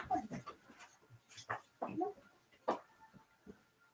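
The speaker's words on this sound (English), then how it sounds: "Got a puppy in the house that's happy to see" An excited puppy whimpers and yelps indoors in a house, a string of short, uneven bursts at close range with brief gaps between them.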